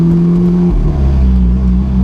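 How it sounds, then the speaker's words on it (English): An Alfa Romeo 4C Spider on its stock exhaust idles loudly close by, then its deep engine note drops in pitch, a heavy rumbling growl filling the space with no talking. "The exhaust system comes stock with this car. This is why this sounds so beastly."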